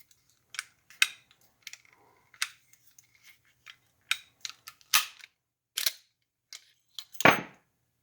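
A Sig Sauer P365 CO2 BB pistol being field stripped, with a string of sharp metallic clicks and snaps at irregular intervals, close and crisp, ending in a louder rattling clack as parts come apart, with no speech.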